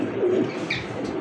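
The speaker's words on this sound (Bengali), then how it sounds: "তাও সাদা ঘুঘু একদম ভাই।" A white dove, sold as an Australian dove at a pigeon market, gives a short, soft, low coo close by over faint background noise.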